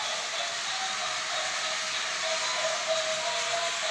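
A steady, even whirring hiss of a small Thomas and Friends toy train circling its track, constant and moderately quiet with no voices.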